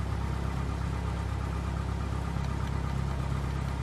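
Steady low idle of a single-engine Cessna 172 piston engine in Flight Simulator X, a continuous even drone with a faint vibrating hum throughout, no talking over it.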